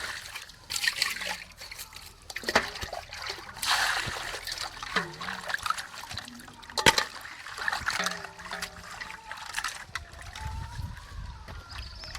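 Water sloshes and trickles as fish is rinsed and swished in a basin, with splashes and handling noises coming and going up close.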